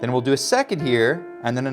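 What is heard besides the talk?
No distinct noise like a dog, phone or traffic.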